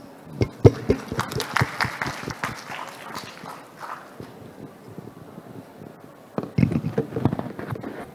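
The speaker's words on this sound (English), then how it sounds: "Give applause, please." Scattered applause from a conference audience at a hydrogen business event, loose individual claps that thin out in the middle and pick up again briefly near the end.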